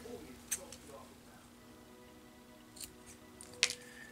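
Scissors snip a segment off a thin strip for a 1000-scale Aztek model build, giving a few quiet, sharp cuts spread apart against a low steady hum.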